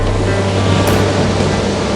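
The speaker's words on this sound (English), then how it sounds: "The waves are enormous." Enormous ocean waves surging around a sailboat on a broad reach in strong winds of 31 to 40 knots, a loud, steady roaring wash of water and wind with no talk.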